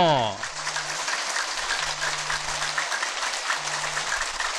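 A yoga camp group claps hands rapidly and continuously, a dense steady roar of fast clapping filling the whole stretch with a faint tone behind it.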